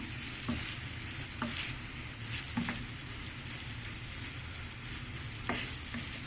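Frozen shrimp frying in tomato paste give off a steady close sizzle, with occasional spatula scrapes and clicks as the pan is stirred, and no voices.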